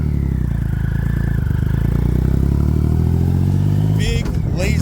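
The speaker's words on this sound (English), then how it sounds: "Big, lazy, torquey motor. It takes very, very little throttle to motivate this thing down the road." A 2009 Triumph Rocket III with 32k miles rumbles loudly at close range, its deep engine note steady and rising through gears, with a voice talking partway through.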